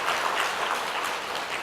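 A church congregation applauds during a Sunday daytime worship service, honoring the elders and volunteers who laid the bricks and stones; a dense, steady wash of clapping lasts the whole moment with no voices on top.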